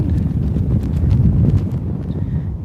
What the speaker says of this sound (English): And the wind's nearly knocked the camera out of my hand.